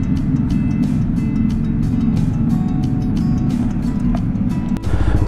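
A 2023 Yamaha Nmax V2 scooter fitted with a JVT V3 exhaust pipe idles loudly and steadily close by, a deep continuous engine rumble with a brief dip and surge near the end, no talking.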